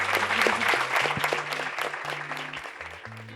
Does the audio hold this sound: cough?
no